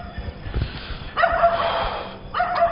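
A dog barks twice at night, short yips somewhat distant over a low background rumble and faint thumps.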